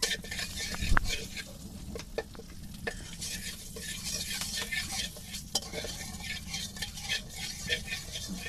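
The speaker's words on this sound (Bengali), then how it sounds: "ডিমগুলো ভাজে নিব, ওই জন্য কড়াইটাকে তেল টেল দিয়ে নিচ্ছি" Eggs fry in hot oil in a wok with turmeric, giving a steady close sizzle broken by sharp clinks and scraping of a utensil against the pan, with one louder knock near the start.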